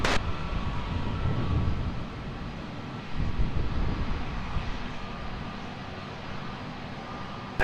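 Aircraft at Lisbon Airport, a steady broad engine roar at a distance that swells slightly and holds throughout, with no voices.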